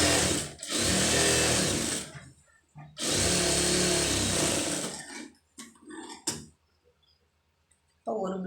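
A sewing machine stitches a lining blouse in two long bursts of fast, close whirring, followed by shorter clicks and handling noises and a final brief run, with some quiet talking between.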